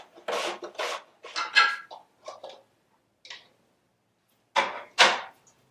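Onions being sliced on a mandolin make close, rasping scrapes in quick strokes, several in a row, then a pause and two more strokes, with no talk.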